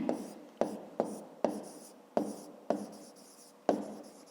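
Pen writing on paper during a fifth-grade geometry lesson, with a series of short scratchy strokes, about eight distinct bursts of varying length, close and fairly quiet, with no talk over them.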